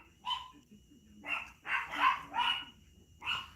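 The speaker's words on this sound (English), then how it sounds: "Let me shut my dogs up." Pet dogs barking indoors, about six sharp barks in irregular bursts, moderately near, with faint background sounds between them.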